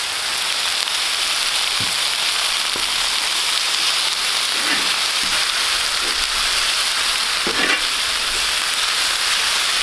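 Vegetables frying in oil on a Vevor flat top griddle, a loud, constant, close sizzle like heavy rain, with a few faint knocks and scrapes but no talking.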